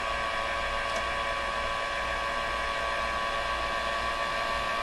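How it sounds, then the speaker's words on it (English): A heat gun blows steadily on an iPhone 6 camera during a repair, a constant close, even hiss of airflow with no breaks, heard alone. "use the heat gun right over there for like 4 seconds"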